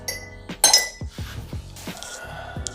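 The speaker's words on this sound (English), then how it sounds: "And then we'll throw our ring in for a few minutes." A few sharp metallic clinks and clatters as a metal thumb ring made from a coin is dropped into a container of pickling solution just below boiling, with brief bright knocks across a quiet background.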